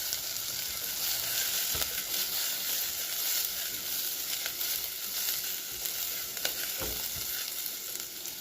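Chopped carrot, capsicum, beans, tomato and beetroot fry with onions in a pan for broken wheat khichdi, giving a steady close sizzle with a few soft stirring knocks, no voices.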